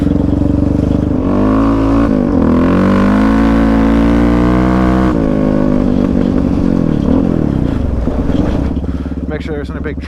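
Yamaha Raptor 700 ATV ridden in snow, its engine loud and close as it revs up through the gears, the pitch climbing and then dropping at each shift before easing off at the end.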